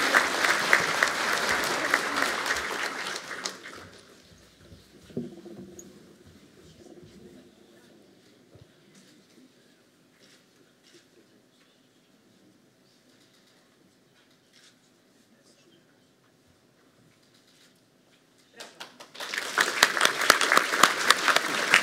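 Audience applause at a university academic year inauguration ceremony at Politechnika Koszalińska: a loud burst of clapping that fades into a quiet hall with faint murmurs, then a second strong round of applause swells at the end.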